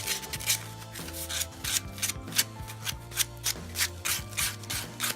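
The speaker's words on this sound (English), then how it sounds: "I'm gonna clean it all up with sandpaper, get all the rough edges off of it." Sandpaper rubbing in short back-and-forth strokes over the rough edges of a metal trench lighter piece made from a .223/5.56 cartridge, close and steady with a rasping, scratchy texture.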